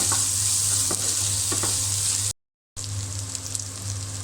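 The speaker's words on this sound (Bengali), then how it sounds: "জিরা বাটা রসুন বাটা আদা বাটা তেলের সঙ্গে অল্প পরিমাণে একটু ভেজে নেব" Cumin, garlic and ginger paste frying in a small amount of oil after onions, a steady close sizzle with a few stirring scrapes and a brief silent break partway through.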